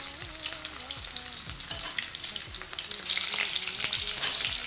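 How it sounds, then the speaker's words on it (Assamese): Chicken pieces for chilli chicken sizzle and fry in a pan, with repeated scraping strokes as the meat is stirred, heard close up with no talk. "এতিয়া মই এনেকৈ ইলুটি শিলুটিকৈ মাংসখিনি ধুনীয়াকৈ সিজালৈকে ভাজি থাকিম।"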